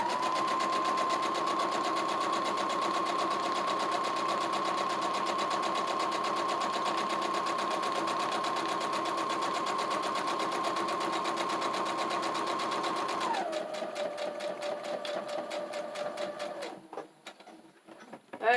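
A home sewing machine stitches fabric in a steady, close, continuous whir that holds for about thirteen seconds, then drops to a lower, slower hum and stops near the end.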